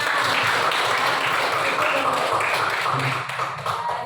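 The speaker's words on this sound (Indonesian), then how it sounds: "Oke, beri tepuk tangan." A classroom audience claps together in a dense, steady patter that fills the whole stretch, thinning slightly near the end, with faint voices mixed underneath.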